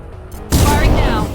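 Gunfire in the Mass Effect video game bursts in abruptly after a quiet moment and continues as a loud, dense barrage.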